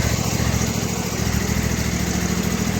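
A motor idles steadily just after a cold start, its even low rumble holding a constant rhythm throughout, close and fairly loud with no talking.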